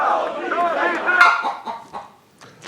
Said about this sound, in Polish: kura się zrobiła aktywna